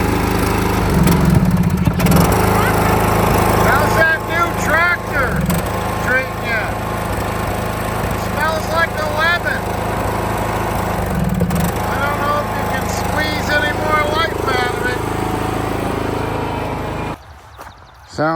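A farm tractor engine running at a steady drone while people talk nearby, the engine hum continuing under their voices before cutting off abruptly near the end.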